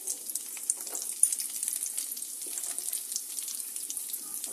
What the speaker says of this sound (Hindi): तो हमने 1 टेबलस्पून काजू और 1 टेबलस्पून किशमिश लिया है, तो इसको हम हल्का रोस्ट करेंगे।